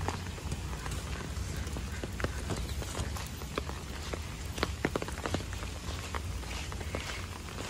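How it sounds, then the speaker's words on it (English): Continuous monsoon rain falls at a South Goa beach resort, a dense steady patter of drops on surfaces with scattered louder splashes, heard alone without voices. "We visited in monsoon, so it is raining continuously."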